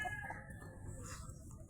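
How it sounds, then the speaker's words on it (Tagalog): Backyard chickens kept for sale cluck and call nearby, with a drawn-out crowing note near the start over a low outdoor rumble, all fairly faint. "Oh, tanawan yung amon mga manok."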